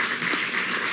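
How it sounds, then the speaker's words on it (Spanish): Crowd applause at a formal national political event, steady dense clapping that is loud and sustained throughout the short stretch with no speech over it. "de aquí le damos un aplauso, compañera presidenta de la Asamblea Nacional Constituyente"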